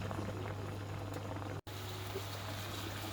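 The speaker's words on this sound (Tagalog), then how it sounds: "Kukuluan ko lang siya saglit." Tocino, a sweet cured pork, simmering in water in a pan, a steady close bubbling boil with a constant low hum underneath and no talking.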